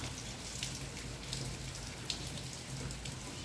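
Steady rain falls on a roof, a dense, even hiss with scattered sharper drops and no pauses.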